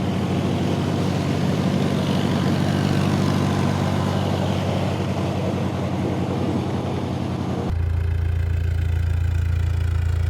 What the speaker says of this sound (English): I'm having to rev my engine back and forth to get them off the prop